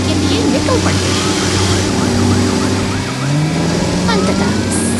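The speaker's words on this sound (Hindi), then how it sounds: "सायरन की गूंज शांत वातावरण को चीरती हुई सुनाई देती है" Emergency vehicle siren wailing continuously, rising and falling in repeated sweeps as it echoes through a quiet setting, loud and sustained over a rumbling engine-like drone.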